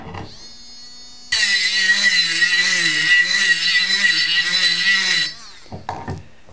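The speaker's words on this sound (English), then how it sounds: "at the tip you have got a drill" A loud, steady high-pitched buzzing scratch of a small battery engraving pen's drill tip grinding on a glass whisky bottle for about four seconds, wavering slightly, then stopping abruptly, followed by faint handling.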